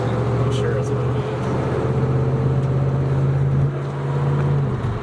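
A 1981 Pontiac Trans Am V8 pulling along in fourth gear, its loud steady engine drone and road rumble running throughout with a brief dip near the end.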